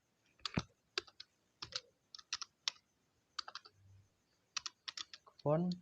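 Keys on a computer keyboard clatter in short bursts of quick, close taps with brief pauses, while someone types HTML font code; a short voiced sound ends the sequence.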